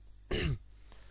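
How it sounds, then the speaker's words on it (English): A man clears his throat once, a short, close, rough rasp lasting about a quarter second against a quiet low hum. "Apologies if I clear my throat a few times"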